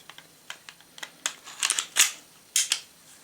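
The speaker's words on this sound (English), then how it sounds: "So let's put the guns together again. First 26." Glock 26 Gen4 pistol being reassembled, a run of sharp metallic clicks and snaps, sparse and light at first, then louder and closer as parts seat together, with no talk.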